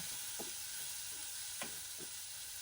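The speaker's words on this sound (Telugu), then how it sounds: "ఇప్పుడు ఇందులోకి కొద్దిగా ఉప్పు, ఒక హాఫ్ స్పూన్ పసుపు వేసుకొని ఆనియన్స్ ఎర్రగా అయ్యేదాకా వేపేసుకుందాం" Onions frying in a pan with salt and turmeric, a steady faint sizzle with a few soft clicks of stirring, no voices.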